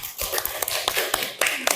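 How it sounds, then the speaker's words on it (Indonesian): A classroom audience claps hands at a university teaching practice session, a ragged burst of brisk, uneven claps from several people close by, lasting under two seconds. "ya, tepuk tangan."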